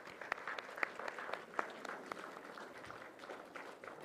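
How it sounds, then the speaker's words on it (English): Graduation ceremony audience applauding, a moderate spread of clapping with a few sharp nearer claps standing out, heard from some distance in a large hall and without anyone talking. "Let's give them a huge round of applause."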